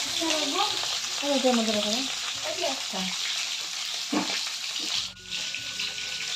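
Fish sizzles and crackles steadily in a hot pan in a home kitchen, while someone talks over the frying.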